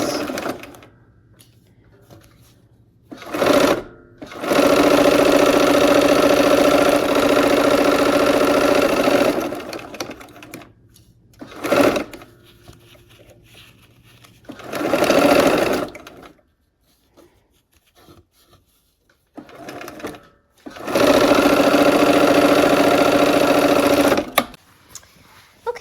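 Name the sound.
sewing machine stitching quilt seams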